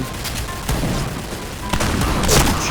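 Rapid gunshots from the shooting game Point Blank crack out in quick bursts, loud and close, with no talking over them.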